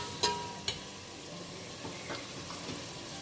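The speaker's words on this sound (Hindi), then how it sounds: "अब टमाटर को ना हल्का सा सॉफ्ट होने तक इसे पकाते हैं।" Two diced tomatoes cooking in a pan, with a low steady sizzle and a couple of sharp clinks from a utensil near the start, close up and without talk.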